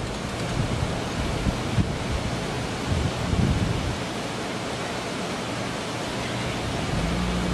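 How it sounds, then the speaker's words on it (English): Wind gusts rush steadily through the night during a severe-warned thunderstorm in Mineola, a loud broadband roar swelling slightly midway with no talking. "Getting some wind gusts though."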